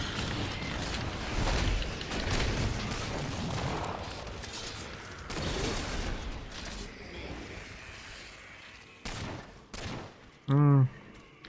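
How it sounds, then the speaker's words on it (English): Allied gunfire from the Halo 4 video game crackles in rapid bursts and volleys through the match, loud and irregular, with other game effects and an electronic tone near the end. "NPC allies still have a habit of shooting dead enemies"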